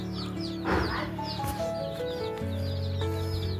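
Native Gavrani chicks peep and chirp together in a poultry shed, a busy overlapping chorus of high calls running steadily throughout, close by and moderately loud.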